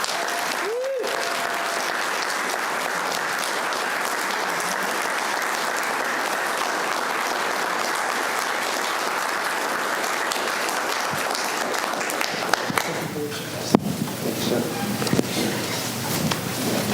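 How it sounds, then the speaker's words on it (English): Audience applause at a city commission meeting, a loud, dense round of clapping that holds steady for many seconds, then thins out with a few scattered claps and a brief bump near the end. "If we can please give them a big round of applause."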